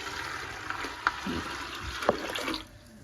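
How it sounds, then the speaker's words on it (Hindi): Water is poured into chana dal in a cooking pot, about three glasses' worth, giving a running, splashing flow with a couple of brief clinks before it tapers off near the end. "तो ये इसमें मैं पानी डाल के मैंने डाल दिया है, तकरीबन 3 गिलास पानी मैंने डाला है इसमें।"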